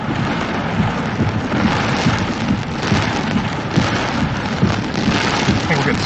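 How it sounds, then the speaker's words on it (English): Small hail and heavy rain pelt down during a severe thunderstorm in Alabama, a dense, loud, constant patter and hiss with a rough, low rumble throughout. "I think we're getting small hail."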